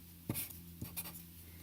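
Variable values written by hand for a Fibonacci example: a few short scratchy pen strokes and taps, close and fairly quiet, with no talk.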